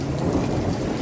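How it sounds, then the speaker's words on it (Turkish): Rain mixed with hail pours down outdoors in a village, a dense, loud, continuous hiss and patter with a low rumbling undertone, no voices during the short burst. "yağmurumuz başladı, doluyla beraber yağıyor"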